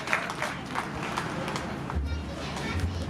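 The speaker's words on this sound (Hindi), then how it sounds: "अपने आप के लिए जोरदार तालियां" Audience at a talk applauds for themselves, a moderately loud, even patter of clapping lasting the full few seconds, mixed with soft crowd murmur and low thumps.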